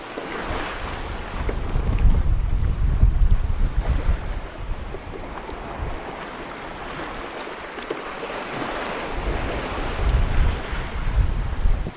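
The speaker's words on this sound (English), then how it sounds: "We've had rolling seas like this for 4 days now." Rolling sea waves wash against a sailing boat at sea while gusty wind buffets the microphone, a steady rushing surge that rises and falls without voices.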